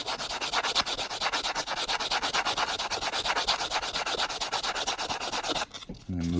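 A 1954 silver quarter being shaped into a coin ring is sanded with quick, even back-and-forth rubbing strokes, close and steady for several seconds before stopping abruptly.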